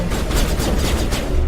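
Rapid gunfire in the Mass Effect video game: a loud, dense string of shots, fired in quick repeated bursts, close and dominating throughout with no talk.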